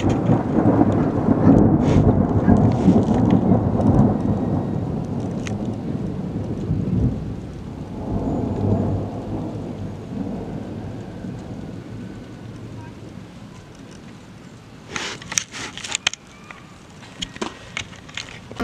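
A thunderstorm over Kunów with very close lightning strikes, loud thunder rolling and cracking over steady rain, with a sharp crack near the end.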